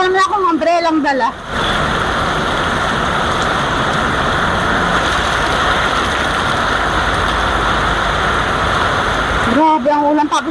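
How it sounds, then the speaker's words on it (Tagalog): Dense, steady roar of heavy rain with flooding water across most of the clip, with brief talk at the start and end and traffic rumble mixed in. "Grabe ang ulan"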